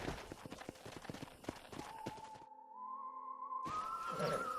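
Horse hooves clip-clop in rapid rhythmic beats in the Red Dead Redemption video game, the steps dense and close, then dropping out briefly before a rising whistle-like tone carries over into a busier stretch.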